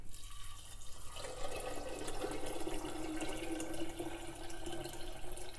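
Water poured from a container onto soaked cashews to make nut milk, a soft trickling fill that rises in pitch as the vessel fills, faint and steady.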